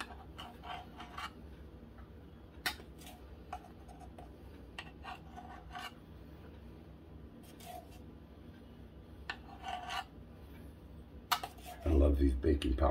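A baking powder can has its contents scraped level, giving short, faint scrapes and light metallic taps scattered through a quiet kitchen, with a louder clatter near the end.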